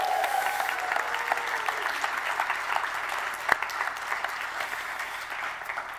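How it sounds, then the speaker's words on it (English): Steady applause from a conference audience at a morning session, sustained and even throughout, with a brief sharp knock near the middle. "So give her a round of applause."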